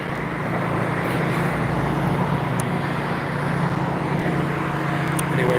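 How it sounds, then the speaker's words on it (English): Steady, loud roar of road traffic passing close by on a street while walking, a continuous broadband rumble with no breaks. "I don't know how badly loud the cross traffic is."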